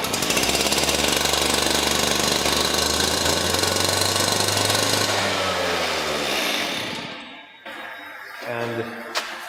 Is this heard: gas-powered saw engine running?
yes